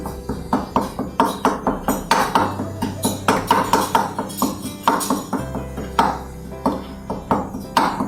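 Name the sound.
mashing cooked dal with a wooden masher in a pot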